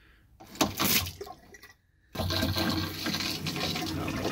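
Hot water gushes from a tap being tested in a plumbing setup, starting after a couple of seconds of clunks and handling noises and then running steadily and fairly loud, close by.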